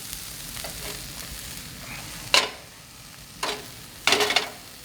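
Tuna tataki in a pan over high heat, a steady soft sizzle broken by three loud crackling bursts of spattering oil.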